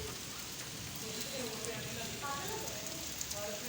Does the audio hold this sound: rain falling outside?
yes